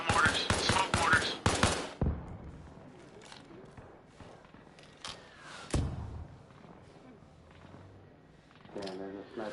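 Bursts of AK rifle fire in the video game Arma Reforger crackle at distance in rapid volleys, followed by scattered single shots and thuds while a voice talks over the fighting.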